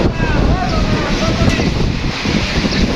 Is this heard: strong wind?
yes